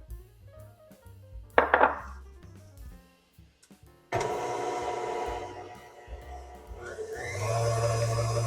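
An electric mixer whirs steadily as it beats four eggs with sugar for an opera cake, starting after a few clinks and knocks of handling and running loud and continuous to the end.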